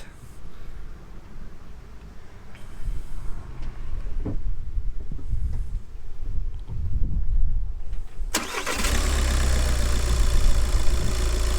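An Audi TDI diesel car with a turbo underboost fault cranks and catches near the end, settling into a loud, steady, close idle after a low rumbling background.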